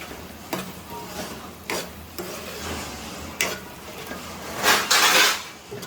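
Chilli powder is stirred into a prawn curry masala in a pan, with scraping and rubbing strokes of a spoon against the pan, a few sharper knocks and a louder scraping burst near the end, close by with no speech.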